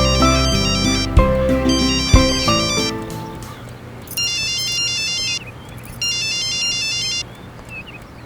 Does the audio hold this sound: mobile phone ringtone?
yes